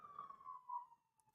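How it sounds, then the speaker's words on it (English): An ambulance siren wails faintly in downtown Las Vegas, a single falling tone drifting off into the distance with no voices over it. "The ambulance."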